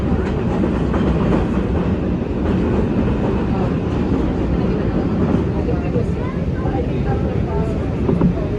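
A NYC Subway 4 express train between Woodlawn and Burnside Av rumbles continuously from inside the car, with rail clatter and a dense mechanical hum, loud and close throughout.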